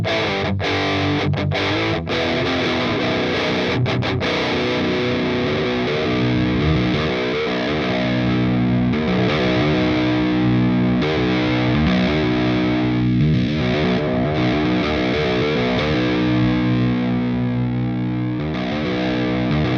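A heavily distorted electric guitar plays through the overdrive 2 channel of the Audiority Solidus VS8100 Marshall Valvestate amp plugin, with dense, continuous, loud chords and riffs filling the whole stretch without speech.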